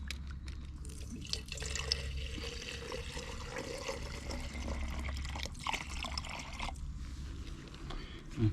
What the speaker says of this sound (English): Now just a case of dumping some water in.